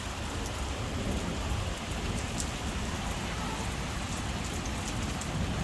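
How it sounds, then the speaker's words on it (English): Heavy rain pours steadily on surfaces nearby during a thunderstorm, with a low continuous rumble of thunder underneath, and no talk. "If you can hear the rumble in the background, it's just constant thunder."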